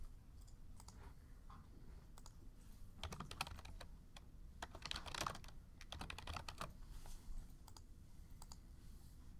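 Students tap computer keyboards and click mice in a classroom, scattered quick clicks and typing bursts thickening into a busier patch midway, with no talking.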